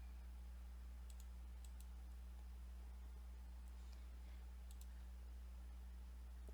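Faint, sparse mouse clicks in drafting software, a few single and doubled taps over a quiet, steady electrical hum.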